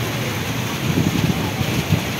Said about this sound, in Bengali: টিনের চাল থেকে বৃষ্টি টুকটুক করে পড়ছে। অনেক বাতাস হচ্ছে, আকাশে মেঘ ডাকছে।